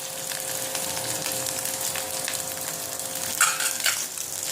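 Jaggery mixture with ghee cooking in a pan on a gas stove for a home cough remedy, giving a steady soft sizzle and bubbling with occasional stirring scrapes near the end.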